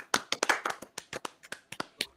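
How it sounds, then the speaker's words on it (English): A small group claps on cue on a sports talk show, about a dozen sharp, distinct hand claps in a loose, uneven rhythm, close and clear against near silence. "Clap it up real quick"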